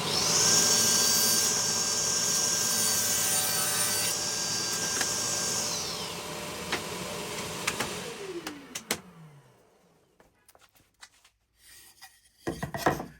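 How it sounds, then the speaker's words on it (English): A sliding table saw cuts plywood box bases with a loud, high-pitched whine for about six seconds. The blade then spins down in a falling tone, followed by scattered clunks and wood knocks as the cut pieces are handled. "I can cut the bases to length. Might as well do them together, and this time I'm using the sliding table to keep everything true."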